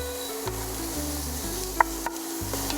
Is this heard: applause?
no